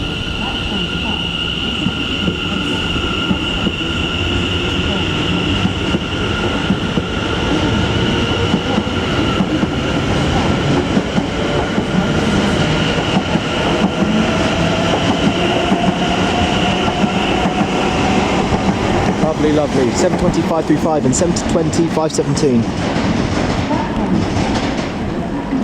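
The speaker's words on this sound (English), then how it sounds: "those track joint sounds sure are amazing" A Greater Anglia train at Cambridge station, its wheels clacking over track joints with a steady rolling rumble and rising rhythmic clicks near the end. A brief voice announcement is heard under it.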